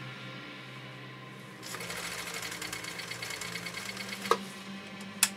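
A sewing machine stitches genuine elkhide leather in straight and then zigzag rows. The motor starts after a quiet moment and runs into a steady, rapid, close-up stitching chatter, with a couple of sharp clicks near the end.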